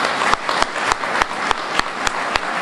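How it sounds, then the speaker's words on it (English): An audience applauds at a veterans' memorial building reopening ceremony, with sustained crowd clapping and a series of sharp, louder claps standing out at regular intervals over the steady patter. "please join me in a collective round of applause for all these individuals"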